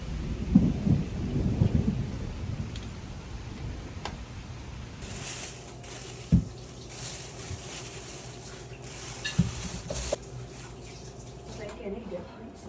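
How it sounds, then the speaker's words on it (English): Rain falling with rumbles of thunder around a rustic cabin on the Buffalo National River, a steady wash of rainfall with a few sharp cracks and low thumps spread through, fairly close and moderately loud, with muffled voices briefly underneath early on. "And now it's starting to rain"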